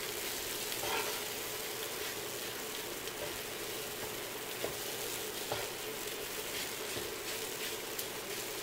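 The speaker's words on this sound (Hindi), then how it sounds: "आलू डालकर मिक्स करेंगे।" Boiled, mashed potatoes are stirred in a hot pan for aloo vada, giving a soft continuous sizzle under faint scraping of the spoon, steady and fairly quiet throughout.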